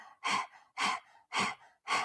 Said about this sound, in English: we're going to do this panting dog breath through the mouth with the tongue extended